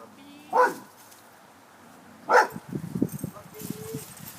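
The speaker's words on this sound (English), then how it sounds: "a strange dog wandered out front and barked at him" A strange dog barks twice out front, two sharp separate barks about two seconds apart, followed by softer yips and whimper-like sounds under low murmuring.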